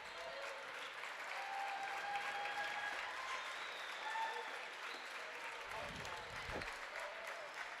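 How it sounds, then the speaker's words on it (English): Fans of the Triad Knights applaud through a basketball timeout against the Mascoutah Indians, a steady wash of clapping from the stands with a few brief louder thumps near the end. "And some good applause from the Triad faithful who have come out tonight."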